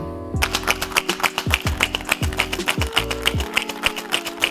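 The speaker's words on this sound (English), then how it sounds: "We'll give that a quick shake." Mezcal cocktail shaken briefly with ice in a shaker, a rapid, steady rattling rhythm of close, crisp pulses lasting several seconds over soft background music.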